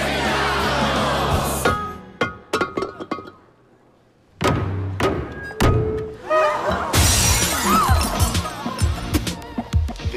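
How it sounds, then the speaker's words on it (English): A vase shattering at an Italian wedding celebration: sharp crashing breaks and thuds, with a brief near-silence before more impacts, then busy cheering and background music carrying on. "The maid of honor shatters a vase"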